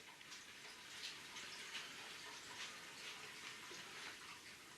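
Tap water runs steadily to fill a homebrew hot liquor tank with sparge water, a faint continuous hiss and splash with no talking.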